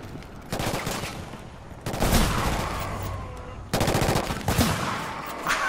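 Rapid bursts of shotgun fire from the video game Killzone Shadow Fall, three loud volleys in quick succession with short gaps between them, set over a steady game background.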